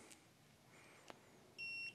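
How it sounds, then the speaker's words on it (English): LF Bros N4 diesel heater controller giving a short electronic beep near the end after quiet room sounds and a faint click. "Now it beeps."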